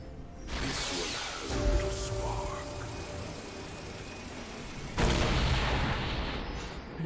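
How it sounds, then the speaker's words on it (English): A League of Legends turret, in a mid-lane match, is destroyed with a heavy broadband crash that swells suddenly near the end, over a dense, noisy layer of battle effects. "Blue team's turret has been destroyed"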